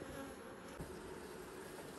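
Honeybees from a backyard hive buzz steadily around the hive, a dense close drone that fills the short moment alone with no voices.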